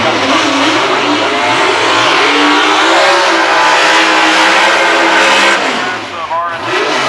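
Drag racing cars at a 1995 event roar continuously down the strip, a loud sustained engine drone with rising revs, while a commentator talks over the noise.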